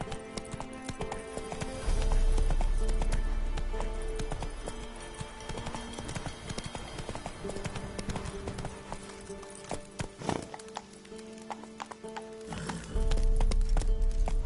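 A horse galloping in The Witcher 3, its hoofbeats drumming in a steady rapid rhythm with heavy thudding stretches, a brief pause in the middle and a whinny, set over game ambience and music.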